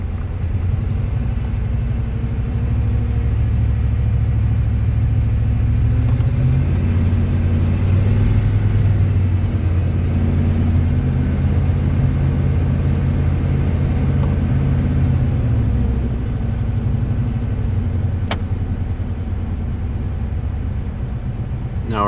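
A rebuilt Ford big block engine, running rich, idles up to a raised RPM and holds a steady, loud, close low rumble with slight rises and dips in pitch, no talk over it.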